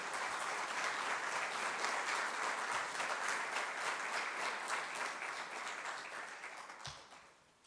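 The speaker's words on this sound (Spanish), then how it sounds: "¿Puede darle una ofrenda de palmas al Señor?" Church congregation applauding together during a worship service, a steady wash of clapping from many hands that holds for several seconds and then thins out and fades near the end.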